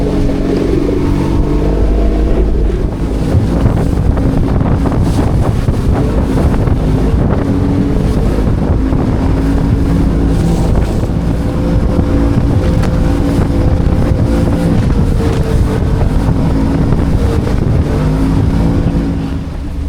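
Small 4 metre aluminium tinny running about 14 km offshore in 12 to 13 knot wind with whitecaps: a steady outboard drone under continuous wind buffeting and water wash, loud and close throughout with no talk.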